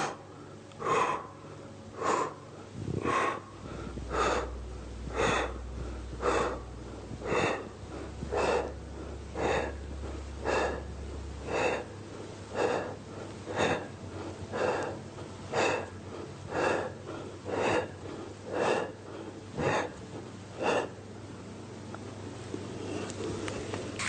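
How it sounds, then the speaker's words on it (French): Rhythmic exercise breathing, with steady forceful exhales and inhales repeating about once a second through a bodyweight workout, close and clear with no talking. "On souffle sur la montée et on inspire sur la descente."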